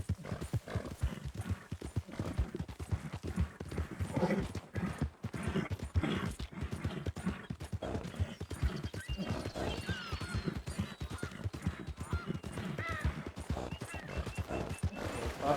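Horse hooves clip-clop steadily in the video game Red Dead Redemption 2, a continuous close rhythmic trot with occasional whinnies and other game sounds layered around it.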